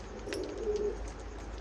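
A Teddy pigeon gives a single short soft coo at close range against a low steady hum, then the rest stays quiet.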